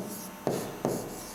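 Someone writes on a board during an English grammar lesson, producing two short scratchy strokes close by over a steady background hiss.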